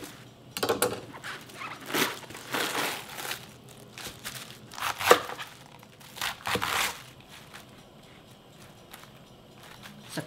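Napa cabbage, Korean baechu, is sliced in half with a kitchen knife, giving a run of close, crisp crunching and crinkling cuts in irregular bursts that fade to quieter rustles near the end.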